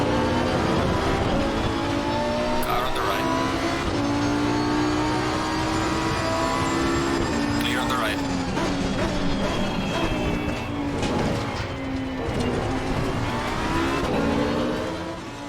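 Race car engines roar loudly and continuously at the Imola circuit in Assetto Corsa Competizione, with a Porsche in a crowded field; revving engines rise and fall as cars pass close by.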